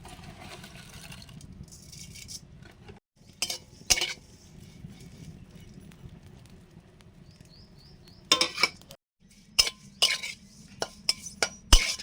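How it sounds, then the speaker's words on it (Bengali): Dried neem flowers dry-frying in a shallow pan over low heat, giving soft scattered rattles and stirring scrapes separated by quiet gaps, close and fairly faint. "হালকা জ্বালানিতে ভাজছি"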